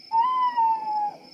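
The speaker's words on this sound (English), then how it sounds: "That's an owl." One owl hoot from a Peppa Pig cartoon, a steady, slightly wavering tone lasting around a second. It is heard alone and close up.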